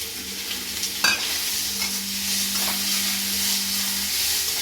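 Small pieces of meat frying in a pan with cabbage, a steady close sizzle and hiss, with a brief stir or clatter early on.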